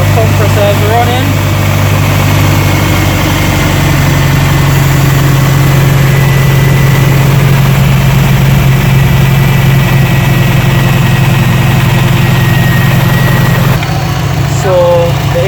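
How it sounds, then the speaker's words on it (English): Steady, loud idle of a Subaru car engine with the A/C compressor running, a constant low drone and hum throughout, with a brief shift near the end. "All the compressors running."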